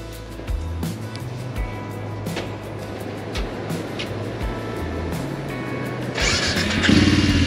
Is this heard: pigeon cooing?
no